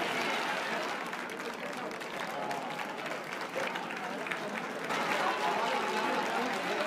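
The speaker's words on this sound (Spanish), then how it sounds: "Voy a pedir un aplauso para la banda de la Escuela de Música por su formidable actuación," Outdoor audience at Alcorcón's Santo Domingo town festival applauds the music school band, a steady, dense crowd clapping that lasts throughout and swells near the end, with some voices mixed in.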